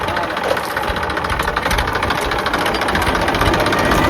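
A tractor engine idles in a field, a loud, steady mechanical rumble with a rough knocking texture that holds unchanged, no talking.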